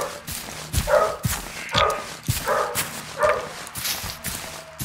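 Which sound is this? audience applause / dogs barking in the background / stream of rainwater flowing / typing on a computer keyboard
dogs barking in the background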